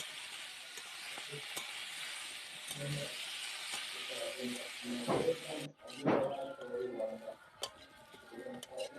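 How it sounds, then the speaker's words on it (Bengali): Potatoes frying in a pan with turmeric and salt give a steady sizzling hiss, joined by a few stirring scrapes and clinks. Partway through, a brief drop in the sizzle is followed by a louder burst of frying. "সামান্য হলুদ আর লবণ দিয়ে আলুটাকেও লাল লাল করে আমি ভেজে নেব।"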